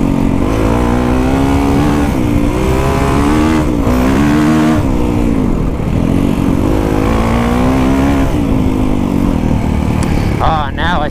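Dirt bikes rev and braap along desert freeriding trails, the close engine note rising and falling in repeated throttle sweeps, with a brief higher squeal near the end.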